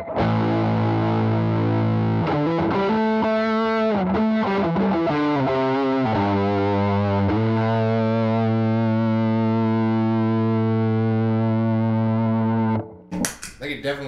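Electric guitar through a fuzz pedal set as a Big Muff alternative, thick sustained distorted notes and chords ringing out loud and close, each held for several seconds before the next change.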